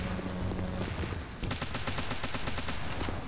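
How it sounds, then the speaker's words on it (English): Missile towers pound a mech in a video game with a dense rapid barrage of bursts and blasts, loud and continuous with no voice over it. "Now my missile towers are going to actually begin pounding them."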